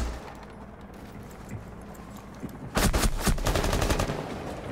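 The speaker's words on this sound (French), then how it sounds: "Oh, par contre, ça mitraille." Rapid machine gun fire from a video game erupts partway through, loud bursts of automatic shots over a busy in-game background.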